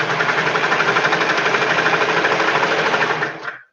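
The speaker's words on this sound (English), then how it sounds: "we're going to take this and sew down this other shoulder seam" A sewing machine stitches down a shoulder seam on a garment in a fast, even run of mechanical clatter, close and steady, then slows and stops at the end.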